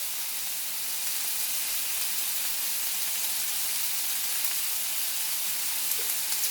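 Sausage browns in a hot pan, giving off a steady, even sizzle with broad frying hiss that runs unbroken throughout, close and moderately loud, with no talking.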